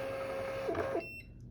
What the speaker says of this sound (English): You literally just feed the paper in the back, and then it sucks it in and pushes it out.